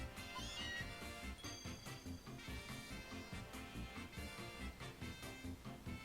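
Meowth, a cat Pokémon in Pokemon Moon, gives a game-synthesized meowing cry, soft and faint over steady in-game background music.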